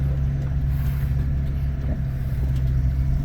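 A Geo truck in four-wheel-drive low, not yet warmed up, labors through deep snow and drifts during an Idaho snowstorm, its engine a steady loud low drone with no clear revving changes.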